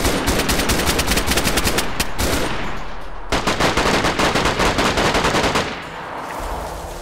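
Automatic gunfire in the video game DayZ on the Deer Isle map: loud, rapid bursts of rattling shots near the listener, broken by a short pause, then another long burst that gives way to a quieter tail.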